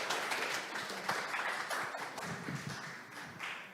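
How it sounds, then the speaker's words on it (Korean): An audience at a Korean AI content conference gives a speaker a welcome with brisk, continuous clapping, a dense patter of many hands at moderate distance that swells and fades slightly. "큰 박수로 맞이해 주십시오."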